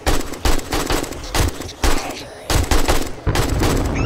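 Rapid automatic gunfire in the zombie survival game 7 Days to Die comes in a series of loud, separated bursts with brief pauses between them, close and punchy throughout.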